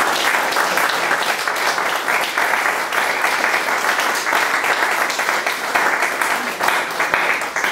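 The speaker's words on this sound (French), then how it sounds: "On peut l'applaudir, s'il vous plaît." An audience in a French televised reading program applauds a guest, a loud, dense and steady burst of clapping that holds at even strength throughout.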